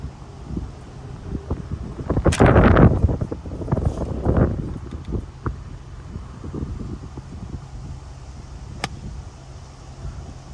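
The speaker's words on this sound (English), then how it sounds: "it's a bit breezy at Wainwright today" Wind gusts buffet the microphone on a breezy golf course at Wainwright, strongest in a loud rushing burst early on, then easing to a steady low rumble with scattered rustles.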